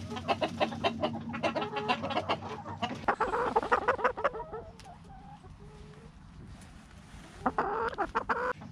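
Chickens cluck in short, irregular bursts, sometimes several birds at once, with a louder flurry near the end; the calls stand fairly close and alone, with no talk.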